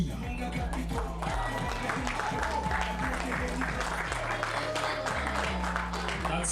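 Applause from an audience at a school Grade 12 farewell luncheon fills the clip, steady clapping throughout over a music bed with a rhythmic low beat.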